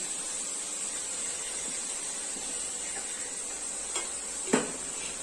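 Spices with a spoonful of turmeric fry in a pan for a Chhattisgarh-style tikiya curry, giving a steady, even sizzling hiss, with a couple of light utensil clinks toward the end and no voices.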